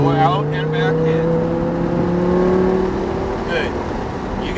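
A Lamborghini Huracan accelerates on the Sonoma Speedway race track, its engine note rising steadily through the gears, loud and close from inside the cabin, with an instructor talking over it.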